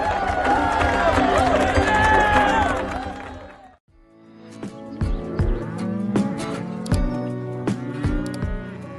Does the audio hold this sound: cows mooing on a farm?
yes